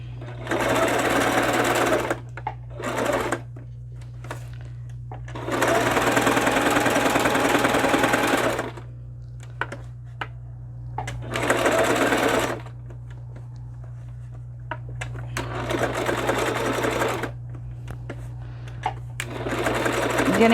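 A sewing machine runs in several loud bursts of steady rapid stitching, separated by pauses with light handling clicks and a constant low hum underneath.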